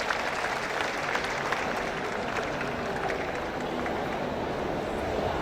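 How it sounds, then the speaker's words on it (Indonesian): A seated audience at an Indonesian leaders' talk event applauds steadily for several seconds, a dense, even wash of clapping heard from some distance. "Tepuk tangan Bapak Arif Yahya, silakan Pak."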